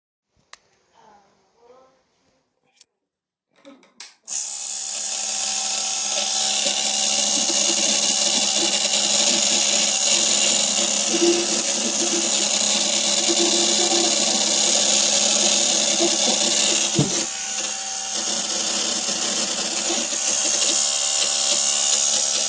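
A few soft voices, then a faulty Kolin water dispenser pump starts up with a loud, steady mechanical whir that drones on unbroken.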